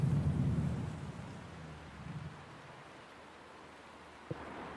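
Rain and distant thunder in a homeless survival video game, a steady rushing wash with a low rumble fading over the first couple of seconds and a brief sharp crack near the end.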